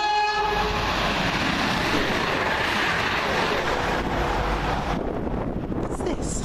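A passenger train bound from Birmingham New Street to London Euston roars past close by at Cheddington, with a steady loud rush of wheels and air throughout and a horn sounding early in the pass.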